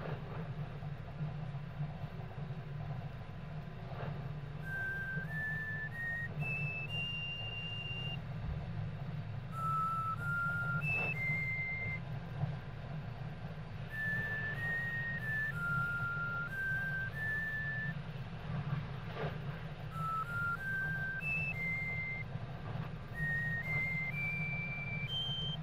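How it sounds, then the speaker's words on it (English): A character whistles a simple melody in the game Omori, bright clean notes in short rising and falling phrases repeating several times over a low steady hum. "Oh, that was him whistling?"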